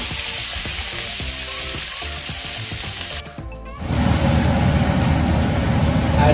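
Onions sizzle loudly in hot oil in a pan for a Goan chicken xacuti, a steady close frying hiss that briefly dips, then swells louder and denser as more goes into the pan.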